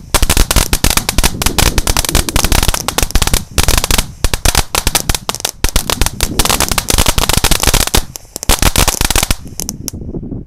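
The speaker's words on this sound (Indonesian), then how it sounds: "Ini juga air mancur pretek bola warna-warni." Dense, rapid crackling pops burst continuously from a fountain firework with colored balls, loud and close, with brief lulls before the sparkling crackle resumes and fades near the end.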